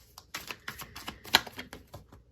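A deck of tarot cards shuffled by hand, close up: a quick, irregular run of crisp clicking and fluttering card snaps with brief pauses, and no talking.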